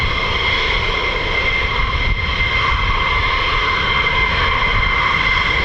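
An F-15 fighter jet with Pratt & Whitney F100-229 engines at RAF Lakenheath gives a loud, steady, unbroken roar for the whole stretch, with no voices over it.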